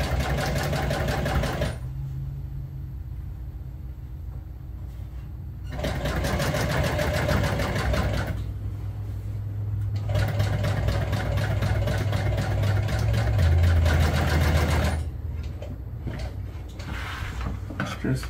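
Sewing machine stitching bar stool upholstery fabric: a loud, steady mechanical whir running in several long stretches, broken by brief pauses and shifts in motor pitch, with faint handling sounds between runs.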